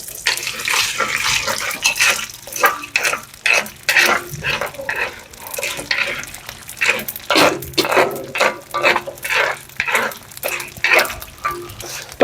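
Edible gum (gond) fries in desi ghee while a spoon stirs it in a pan, giving steady sizzling with repeated scraping and stirring strokes at a moderate level and no talking.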